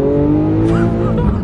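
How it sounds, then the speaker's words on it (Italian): A Lamborghini Aventador drives with a steady, loud engine drone and a brief tire squeal, heard from inside the car, continuous through the clip. "Abbiamo la Lamborghini"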